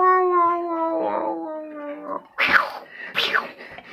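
A person imitating a cat in Minang comedy: a drawn-out meow with a clear tonal wail, followed by two rougher, breathy cat cries, close and loud.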